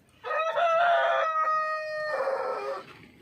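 A rooster crows among hens in a farmyard henhouse on a windy autumn day, a single loud, close, drawn-out cock-a-doodle-doo lasting about two and a half seconds, with faint background noise and no talking.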